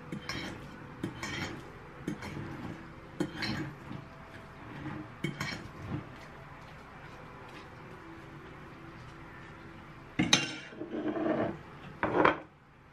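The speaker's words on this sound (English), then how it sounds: "We're going to mix the flour already." Flour being mixed in a bowl for shrimp nuggets in a home kitchen, with a series of faint scraping, clinking utensil strokes against the bowl and a few louder rubbing bursts near the end.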